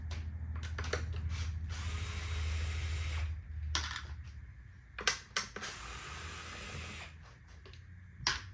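Ratchet wrench clicking while long bolts are backed out of the front bumper of a Floatwheel ADV electric board, with bursts of rapid pawl clicks separated by pauses and a low steady hum underneath.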